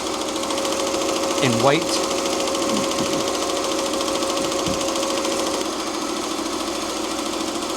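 An embroidery machine stitches out a line of text, a rapid steady mechanical chatter running throughout, with a person speaking briefly over it near the start.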